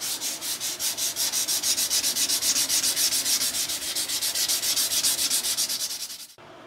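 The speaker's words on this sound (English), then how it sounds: "I'm gonna go ahead and start sanding this" A knife handle is sanded by hand, a brisk rhythmic back-and-forth rasp of about a dozen strokes per few seconds, close and steady, stopping abruptly near the end.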